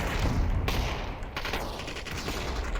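Rapid gunfire in the VR shooter Population: One during a competitive finals match, a continuous loud crackle of overlapping shots with a few sharper bursts, no voices over it.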